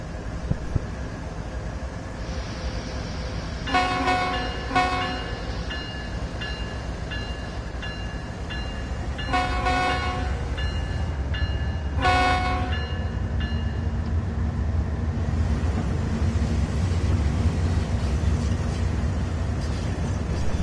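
BNSF freight locomotives climbing Sand Patch Grade in a train simulator, a low continuous engine rumble with several sustained horn blasts in bursts over the first two-thirds.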